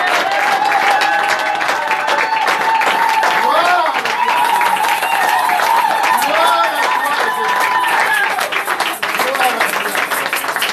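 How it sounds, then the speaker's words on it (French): Congregation at a Sunday church service applauding and cheering as an offering of acclamation to God, a dense, continuous wall of clapping with voices shouting over it throughout. "on peut donner une offrande d'acclamation à notre Dieu."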